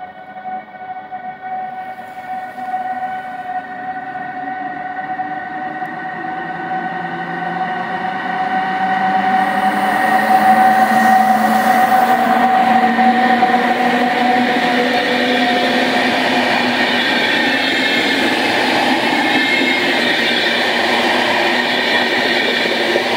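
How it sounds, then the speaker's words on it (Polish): A Regio passenger train pulls into Rawicz station in the evening. Sustained tonal hums and squeals from the rails and traction grow louder as the train nears, reaching a steady, loud rumble about halfway through and holding it to the end. "Wjeżdża Regio relacji Poznań Główny"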